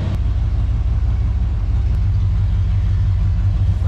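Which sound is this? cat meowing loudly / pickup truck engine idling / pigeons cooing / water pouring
pickup truck engine idling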